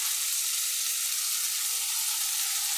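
Brinjal sautéing in a hot pan gives a dense, even hiss of sizzling oil that holds steady throughout, close and moderately loud, with no stirring accents or speech.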